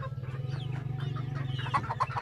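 Gamecock stags in a pen give steady, rhythmic low clucking that runs throughout, with brighter chirps and calls rising near the end, moderately close.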